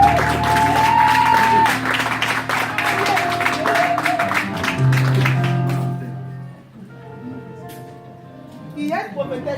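A church congregation applauding and cheering in praise: dense clapping for about six seconds over music and voices, then fading as talk continues.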